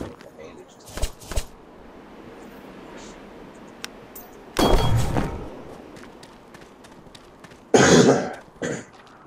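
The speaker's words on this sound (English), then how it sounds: "Sorry for the cough." Two brief, harsh cough bursts from a player during a Savage Lands survival game session, standing out loudly over a quiet background with a few soft ticks and thumps.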